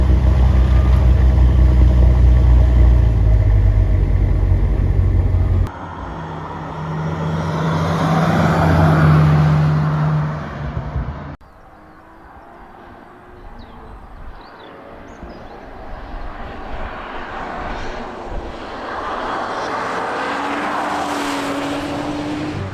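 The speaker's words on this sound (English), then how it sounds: "you can hear the sound of this car. It's got a V6 noise." A 2026 Audi RS5 with a V6 engine lets out a muted, low exhaust drone that shifts in level across a few sections, sometimes swelling and sometimes dropping back, with no talking.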